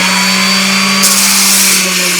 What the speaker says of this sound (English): I'm going to start off with a 40 grit sanding disc to get it roughly